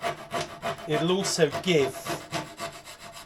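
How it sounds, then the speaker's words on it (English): Rhythmic rasping strokes of a wood rasp scrape across wooden reefing chocs up close, a coarse filing sound repeated in quick back-and-forth passes, with a brief voice speaking partway through. "I'm going to use this rasp"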